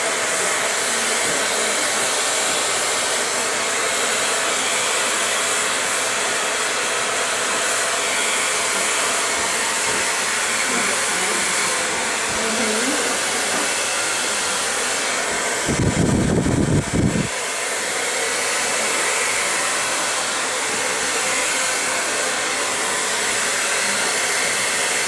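A hair dryer roars continuously at close range while blow drying hair in a salon, a steady loud whoosh with a short deeper, louder surge midway as the airflow shifts, no voices.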